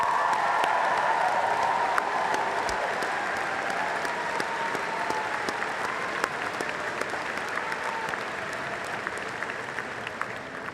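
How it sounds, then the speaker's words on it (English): Audience applause at a university welcome convocation, a large crowd clapping in a broad, sustained wash that stays steady and gradually eases, with faint cheers and voices underneath. "Let's give them a round of applause."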